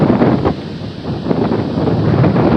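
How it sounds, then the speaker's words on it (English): Strong wind at night buffets the microphone, producing a loud, continuous low rumble that surges and eases in gusts. "but windy out there"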